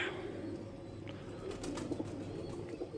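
Pigeons kept for sale, including golden kabootar, coo softly with a few brief wing flaps and faint chirps against a low steady background hum.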